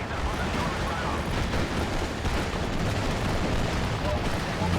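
IG-18 infantry gun firing in Steel Division: Normandy 44, a Normandy WWII strategy game battle at Carpiquet, heard as a dense, continuous rumble of heavy gunfire and artillery with no distinct pauses.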